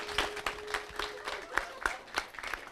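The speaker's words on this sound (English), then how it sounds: "Let's give him a big round of applause" Scattered, fairly sparse clapping from a small group, with individual claps standing out in an uneven rhythm over a few seconds.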